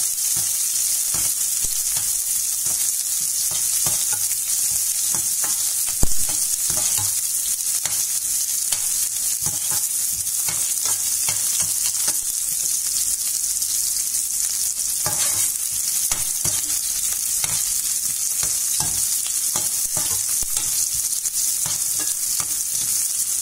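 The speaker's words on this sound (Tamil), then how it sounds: "ஸ்லோ ஃப்ளேம்ல வச்சுட்டு நல்லா வெங்காயம் வதங்குற வரைக்கும் வெயிட் பண்ணுங்க." Onions sautéing in a pan over a slow flame for Chettinad chicken curry, a steady, even sizzle with occasional stirring scrapes, close and continuous, no voices.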